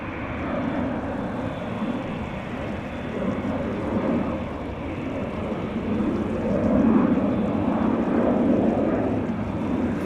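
Airliner departing from the Polderbaan runway at Amsterdam Schiphol, a broad rumbling roar at a distance that swells slightly toward the end, steady and continuous with no talk.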